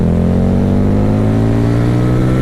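A 2016 Harley Davidson Night Rod motorcycle in second gear revs hard from about 4,000 toward 8,000 rpm, a loud, close, continuous engine roar that climbs steadily in pitch.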